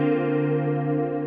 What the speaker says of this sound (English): natural reverb, compressor, and the main thing is the chorus